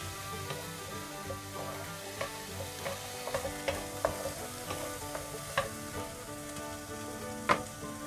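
Onion is stir-fried in butter in a pan with a soft, steady sizzle. Spatula scrapes and clicks come through at irregular intervals, fairly close.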